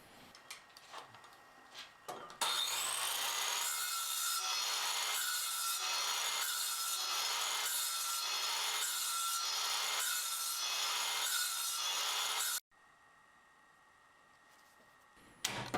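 A circular saw cuts let-ins in 1x6 tongue and groove pine boards, starting abruptly with a loud, sustained whine that pulses rhythmically as the blade moves through the wood, then drops sharply to a quieter spin-down.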